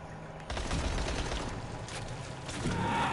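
Gunfire aimed at zombies in Dying Light, a sustained run of loud shots that starts abruptly after a brief quiet moment and swells again near the end.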